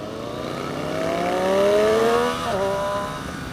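A 2018 Triumph Street Triple RS motorcycle engine revs steadily higher, its whining tone climbing in pitch for about two seconds before a brief dip at a gear change, then pulling on, loud and close.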